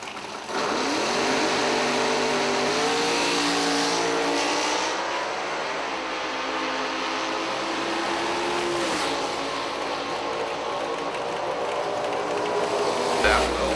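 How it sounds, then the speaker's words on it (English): A high-revving race car engine at a 2012 IHRA Tournament of Champions drag race, holding a loud, sustained high-RPM wail close by for most of the run, with the pitch shifting as it winds up. "Another high winding car."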